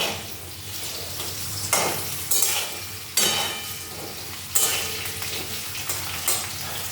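Potato, eggplant and drumstick vegetables fry in a hot pan with cumin, a steady close sizzle punctuated by several loud bursts of stirring and spatula scrapes.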